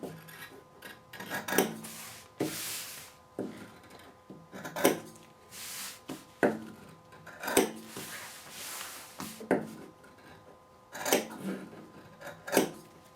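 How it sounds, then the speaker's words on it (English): Scissors snipping through cloth diaper fabric at each marked elastic point, a series of short crisp cuts spaced about a second apart, close and clear with no talk. "I'm just going to snip at each one."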